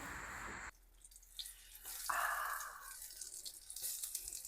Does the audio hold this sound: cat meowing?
no